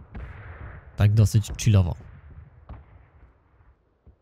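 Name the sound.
gunshots in the video game PUBG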